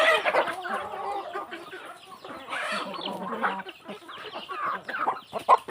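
Burmese fighting chickens cluck and chatter at close range, a busy, irregular run of short calls from several birds with no talking.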